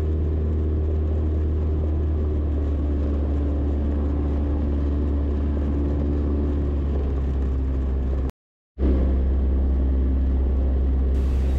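A small tailwheel airplane engine held at added power while climbing a short, narrow uphill landing strip, a steady loud droning hum that cuts out briefly before resuming just as strong.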